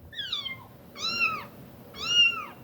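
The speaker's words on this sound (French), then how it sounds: "Voici un son de chaton." Three high, thin kitten meows, evenly spaced and each rising then falling, clear and close against a quiet background.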